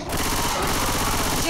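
Rapid automatic gunfire in a video game, a dense unbroken stream of shots lasting the whole moment, loud and close.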